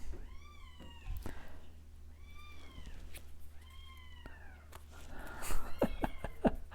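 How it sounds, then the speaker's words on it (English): Several small kittens meow repeatedly in thin, rising cries, close by, with a few sharper squeaks near the end. "You've got to be able to hear my kittens crying."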